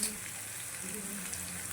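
Crushed garlic dropped into hot oil gives a steady, soft sizzle, faint and continuous through a brief stretch, with a quiet low hum underneath.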